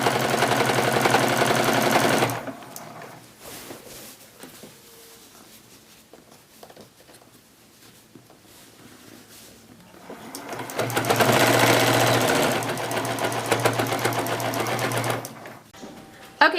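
A sewing machine stitches binding onto a quilt in two bursts of rapid, even mechanical chatter, separated by a quieter pause with small handling noises.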